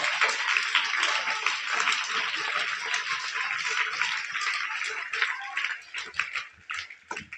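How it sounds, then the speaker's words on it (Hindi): Sustained applause from a large school audience, dense and steady, thinning slightly toward the end, after a poetry recitation. "उनके लिए भी बीटी पब्लिक स्कूल परिसर से तालियां पहुंचे"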